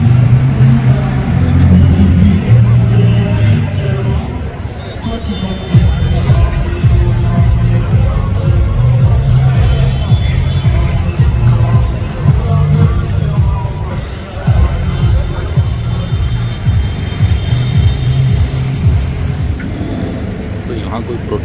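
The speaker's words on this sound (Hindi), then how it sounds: "पता नहीं है जी किस चीज़ का प्रोटेस्ट है, लेकिन कुछ ना कुछ प्रोटेस्ट है आज।" A protest crowd gathers outside the Colosseum in Rome, a steady murmur of many voices mixed with passing car traffic and city rumble, with a nearby voice talking over it.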